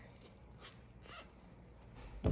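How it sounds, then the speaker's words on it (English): A plastic zip tie is ratcheted tight around a wreath frame made from a bicycle wheel, giving a faint, quick run of zipping clicks, followed by a louder thump at the end. "then I'm going to just add the zip tie"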